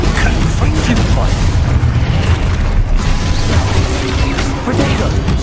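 Confringo, the fiery blasting spell in the Hogwarts Legacy video game, goes off as loud, dense booms amid continuous combat noise, with a voice calling out over the battle.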